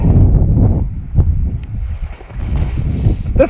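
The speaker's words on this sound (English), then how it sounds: "The wind ain't helping" Gusty wind buffets the microphone outdoors at a shooting range where a Ruger Wrangler revolver is being fired, a steady low rumble with rustling swells and no talk.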